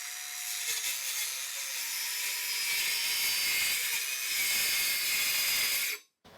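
A circular saw cuts through veneered material scored with a razor blade, its steady high-pitched whine running loud and unbroken for about six seconds before stopping abruptly.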